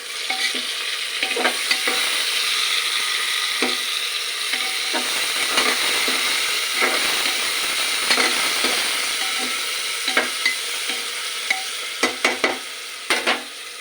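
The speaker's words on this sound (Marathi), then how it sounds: "मीठ टाकल्यानंतर त्यांना पाणी सुटेल आणि ते एकदम सॉफ्ट होऊन जातील. थोडं हलवून द्यायचं." A spoon scrapes and stirs khichdi ingredients with salt in a cooking pot, giving repeated close scraping clicks over a soft steady sizzle, with no talk.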